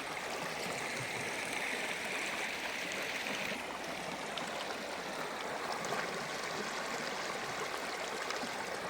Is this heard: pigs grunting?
no